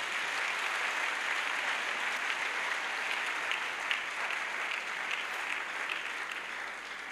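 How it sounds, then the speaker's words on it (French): A large congregation at an evangelistic crusade claps for the Lord, sustained dense applause from many hands filling the space evenly from start to finish. "Let's clap to the Lord."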